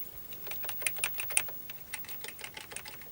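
Keys pressed on a Commodore Amiga 500+ keyboard, a quick run of light, clicky keystrokes at close range, with no voices.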